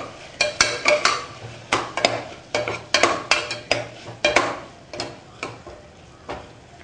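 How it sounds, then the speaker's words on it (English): Ginger garlic paste being stirred into softened tomatoes and onions for mutton korma, a quick rhythmic series of spoon scrapes and taps against the pot over a faint sizzle, close by with no talking. "We need to add ginger garlic paste. And stir it for about a minute."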